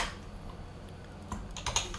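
Quiet clicking keystrokes sound as code for an OpenGL window program is typed on a computer keyboard, with sparse light taps and a slightly louder cluster near the end, alone and close.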